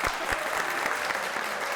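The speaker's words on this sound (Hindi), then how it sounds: "तालियां" Applause from a live audience at a religious talk, a dense burst of many hands clapping together, close and steady for a couple of seconds with no speech over it.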